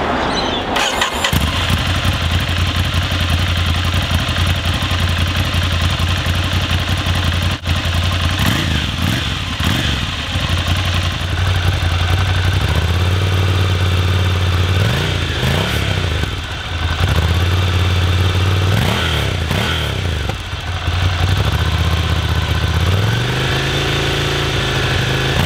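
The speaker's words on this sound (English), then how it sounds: "it's got that familiar Ducati V-twin burble" A Ducati Scrambler Desert Sled's V-twin engine idles with a lumpy, loud burble, repeatedly revving up and settling back down, close and continuous throughout.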